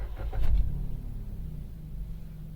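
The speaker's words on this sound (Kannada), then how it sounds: "ಬನ್ನಿ ಗಾಡಿ ಸ್ಟಾರ್ಟ್ ಮಾಡ್ತೀನಿ." A Maruti Suzuki Baleno car engine cranks and catches close by, then settles into a steady low idle rumble, with no talking.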